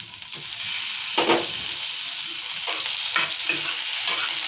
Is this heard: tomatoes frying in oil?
yes